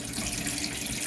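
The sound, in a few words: tap water rinsing a container lid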